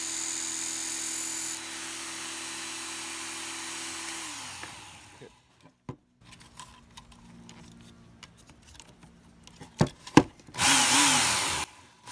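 A power tool shapes a chisel point for a Leatherman-style multitool, whining steadily for several seconds before winding down, followed by scattered clicks and taps and a short, harsh grinding burst near the end.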